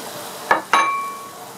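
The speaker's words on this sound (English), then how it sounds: "That nice sizzle is telling us that that pan is still pretty warm" Two sharp sizzles as shrimp hit a hot pan, the second lingering into a steady crackle with a faint ringing tone.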